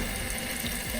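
A water tap runs weakly under low household water pressure, giving a steady, faint hiss with no voices.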